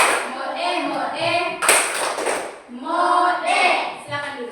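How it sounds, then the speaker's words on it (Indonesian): Schoolchildren in a classroom do a Bajawa-style salute clap, rhythmic group claps and slaps mixed with chanted voices in short bursts, one sharp loud clap burst in the middle. "kita tepuk salut ala Bajawa untuk teman kelompok kita ini"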